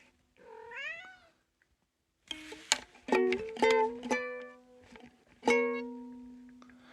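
A cat meows several times, one short call, then a cluster of drawn-out meows, and a final long cry, close and clear with no talking.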